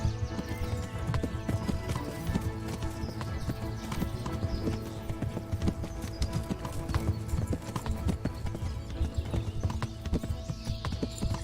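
A horse gallops in Kingdom Come: Deliverance, its hooves pounding in a fast, steady rhythm under a busy battle din. Occasional whinnies rise over the noise.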